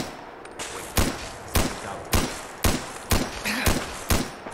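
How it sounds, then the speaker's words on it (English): Vertibird gunfire in Fallout 4, loud sharp shots arriving in a steady rhythm of about one every half second over a background of noise. "I heard what sounded like the vertibird shooting at me as I came under fire."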